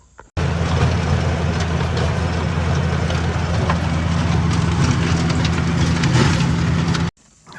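A tractor tiller preparing a food plot runs with a steady, loud engine drone and deep low rumble, continuous and close by without pause.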